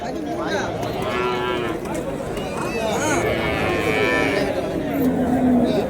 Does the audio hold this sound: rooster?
no